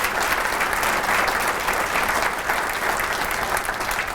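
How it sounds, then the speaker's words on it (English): Audience at a talk applauding a speaker, a dense steady wash of many hands clapping that holds loud for several seconds. "Let's give Chris a round of applause."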